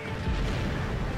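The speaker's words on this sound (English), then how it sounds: "oh, cannons fire!" Cannons fire in Monster Hunter Portable 3rd, giving one brief, dense low boom that rumbles through a dense game mix with a voice partly over it.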